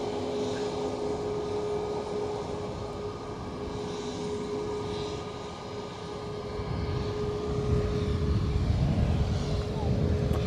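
An aircraft at Edinburgh Airport gives a steady loud engine roar with a constant droning tone that swells toward the end, while people talk nearby.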